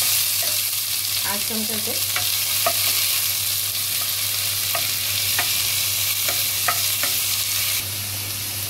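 Onions fry in oil in a pan for rajma, giving a steady, loud sizzle throughout with light clicks from stirring and a brief voice speaking over it.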